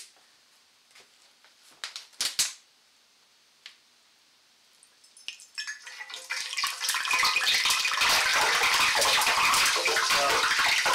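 Drops of water hitting hot melted wax used for preserving Civil War artillery shells, a few faint ticks at first, then a loud, dense crackling sizzle that builds and carries on steadily.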